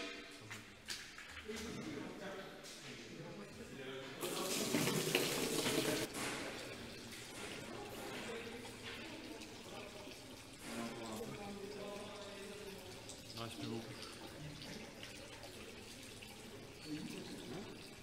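Buttermilk from a butter churn pours and splashes steadily as the churn is half opened, with a louder gush partway through, while people talk nearby at a hall event.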